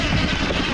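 A Sur Ron Ultra Bee electric dirt bike at full throttle gives a loud, rushing whine blended with wind and tire roar, close and continuous for a brief moment with no voices.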